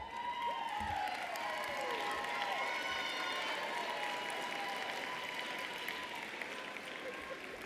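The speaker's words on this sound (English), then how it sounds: "round of applause" Graduates at a university social work commencement ceremony applaud their families, a broad, distant wash of clapping from a large crowd in a big hall, steady throughout with faint cheering and tonal whistles drifting over it.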